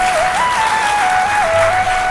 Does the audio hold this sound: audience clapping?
yes